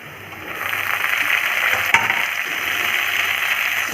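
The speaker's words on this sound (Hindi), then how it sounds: "इसको हल्का से फ्राई कर देंगे।" Sliced tomatoes frying in a pan with browned onion give off a steady, moderately loud sizzle that rises after a quiet first half-second, with one brief sharp tick partway through.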